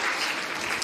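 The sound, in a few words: applause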